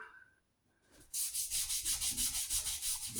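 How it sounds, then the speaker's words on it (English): A nail brush scrubs steadily across a JK Forefront leather work boot in rapid, even back-and-forth strokes, close and continuous after a brief quiet start. "So scrub that in with your nail brush there."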